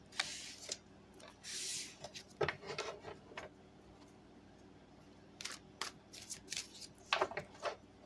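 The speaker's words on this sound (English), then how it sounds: "wouldn't hurt to do a little more shuffling" Tarot cards are riffled and shuffled in several short bursts with soft rustles and taps between them, close up and fairly quiet.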